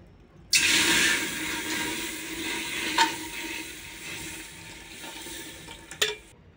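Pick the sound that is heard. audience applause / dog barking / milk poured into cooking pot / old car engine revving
milk poured into cooking pot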